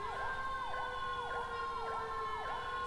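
A modded GTA 5 police car sounds its auxiliary and main sirens together: a fast, repeating wail sweeps up and down about twice a second over a steady high tone, clear and unbroken.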